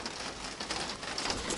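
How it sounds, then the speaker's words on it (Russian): Steady rain patters on leaves outside a country house, a dense even hiss with scattered drops throughout and no voices. "Хороший дождик."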